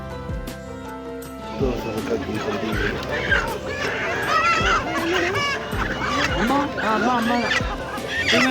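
Chickens cluck and call repeatedly amid a crowded farmers' livestock market in Bangarpet, Kolar district, with people talking nearby and a rhythmic low thumping beneath.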